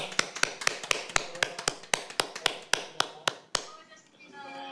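Audience applause closing a Korean lecture: a run of sharp, even claps, fairly near and steady for about three and a half seconds, then fading into murmuring room noise.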